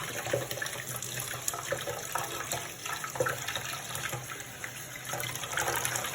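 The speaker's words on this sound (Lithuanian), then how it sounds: "Tai dabar pilam šalto vandens ant šito" Cold water is poured over rice in a pot, a soft, steady splashing and trickling that runs faintly throughout with small bursts.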